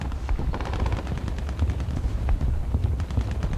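Gunfire from a War Thunder tank battle, with a SARC Mk VI armored car carrying a 6-pounder gun: dense, rapid bursts of booming shots, loud and continuous throughout with no pauses and no voices.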